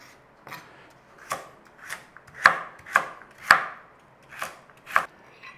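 Carrots are diced with a knife on a board: about ten crisp, evenly paced chops, close and clear with no talk.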